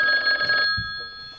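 Loud, close telephone bell ringing in a Dutch film scene, a rapid trilling ring that cuts off abruptly and leaves a faint background with a low thump.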